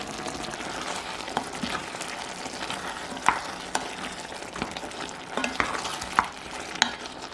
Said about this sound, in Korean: 월계수잎, 바질가루, 고춧가루 넣어 대강 섞어주세요